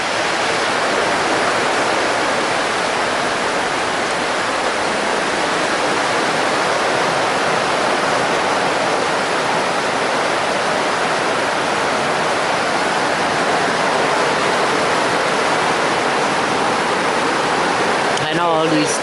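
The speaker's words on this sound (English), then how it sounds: "Looking at the river." A river in Jamaica rushes in a constant, loud broadband roar, steady and unbroken for the whole stretch, with a brief disturbance near the end.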